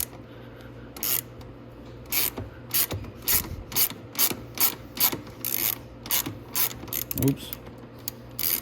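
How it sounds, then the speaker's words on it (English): A ratchet wrench turns a bolt on the control arm of a Venom 125cc Grizzly ATV, making close, rhythmic clicking strokes over several seconds, with a brief spoken word partway through. "I'm removing the totally wrong bolt."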